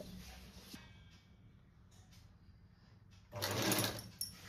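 A sewing machine stitches tucks on a puff sleeve, a faint steady whir that grows louder and busier for about a second near the end before easing off.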